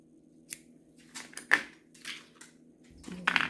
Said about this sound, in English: Let's grab our scissors.